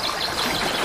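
A waterfall sound effect: a brief, continuous rush of splashing water, steady and fairly loud, with no voices.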